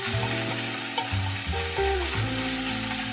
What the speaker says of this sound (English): Now add half a spoon of Sichuan broad bean paste. Stir fry and mix well.